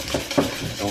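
A whisk or spoon stirs hot milk into egg yolks in a bowl, giving short scraping swishes against a soft sizzle-like hiss, close and steady for under a second with no talk.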